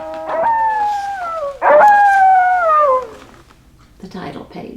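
A human voice imitates a wolf with two long, wavering howls that slide downward in pitch, each loud and close, followed by a brief softer breathy sound.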